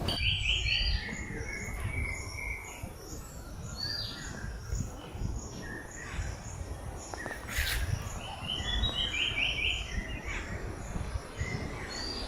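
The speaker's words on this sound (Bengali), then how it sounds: "পাখির কিচিরমিচির ডাক আপনি বর্ষাকাল ব্যতীত অন্য কোনো সময় কিন্তু পাবেন না।" On Koro (Kapishta) hill in the rainy season, birds chirp and tweet in short scattered bursts over a quiet, soft background with faint insect hum.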